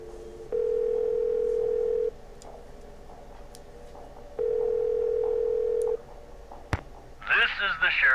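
A ringback tone sounds in two long, evenly spaced pulses as a telephone call is placed in a Nancy Drew video game, followed by a click and the start of a voice answering.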